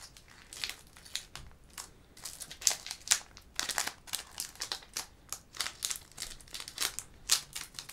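A Pokémon booster pack wrapper from an Eclipse Cosmique display being torn and crinkled open with effort, close and fairly quiet, in a steady run of sharp crackling bursts with no talking.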